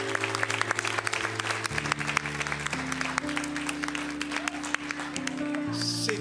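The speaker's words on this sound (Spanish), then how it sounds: "Denle un fuerte aplauso al Señor en esta mañana" A church congregation gives a strong, sustained round of applause on a cold morning, dense clapping running steadily throughout over held keyboard tones.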